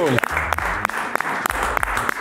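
Audience clapping for a performer, with a burst of applause under talk and loud individual claps cutting through the chatter.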